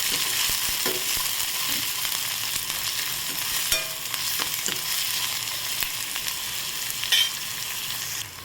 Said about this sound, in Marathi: कांदा घालायचा परतून घ्यायचं एक पाच मिनिट